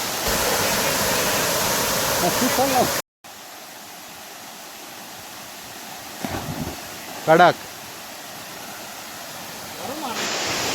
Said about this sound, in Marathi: धबधबा खूप भारी आहे आणि पाणी पण जास्त आहे